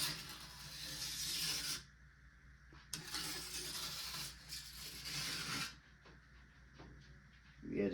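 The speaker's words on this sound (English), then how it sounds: "get your diamond stone wet, and I just kind of run it along here on the contact points" Wet diamond stone rubbed in several passes along a ski's metal edge, a quiet gritty rasping that comes in separate strokes with short pauses between them.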